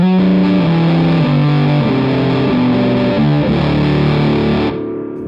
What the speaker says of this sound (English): There you can really tell that I'm boosting the Revv in a beautiful, super fat sounding way.